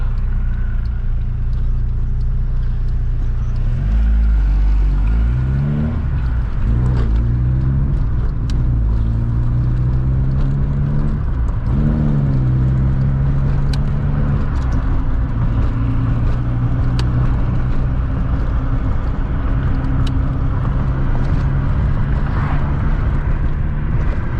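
A VW MK2 16V running individual throttle bodies with CBR900RR motorcycle carbs is driven gently, its engine droning steadily with a few swells of revving, heard close and loud from inside the car.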